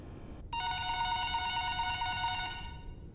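A telephone in a Five Nights at Freddy's tape starts abruptly after a quiet start and rings with a steady, bright electronic bell tone for about two seconds before fading out.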